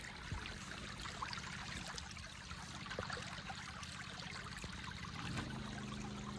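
Water trickles and streams steadily through a rice field water inlet, a continuous close gurgle with a low engine hum beneath it and a brief knock near the end.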